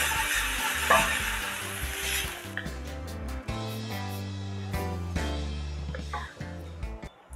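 Shrimp for a Brazilian moqueca sizzling in a hot pan, a steady frying hiss with stirring and scraping against the pan and occasional utensil knocks, close and alone without talk.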